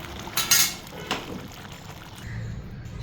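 A cooking pot of potato and cauliflower curry is lifted off the stove, giving a couple of sharp metallic clinks and scrapes close by, then a soft low rumble.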